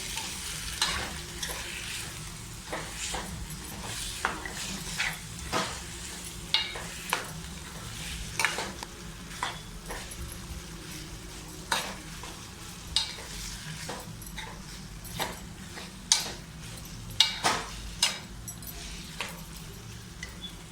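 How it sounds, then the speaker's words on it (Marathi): Ambadi bhaji, a spiced leafy sorrel dish, is mixed in a pan with a spatula: rhythmic scraping strokes repeat every second or so over a low, steady sizzle. "अशी मस्त मिक्स करून घेऊया"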